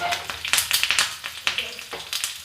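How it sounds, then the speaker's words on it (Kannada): Mustard seeds, garlic and curry leaves frying in hot oil for a tempering, sharp crackling pops and spits in quick uneven bursts over a soft sizzle, close and lively. "ಸ್ವಲ್ಪ ಸಾಸಿವೆ, ಸಿಡಿದ ನಂತರ ಬೆಳ್ಳುಳ್ಳಿ, ಸ್ವಲ್ಪ ಕರಿಬೇವು ಹಾಕಿ ಫ್ರೈ ಮಾಡ್ಕೊಳ್ಳೋಣ."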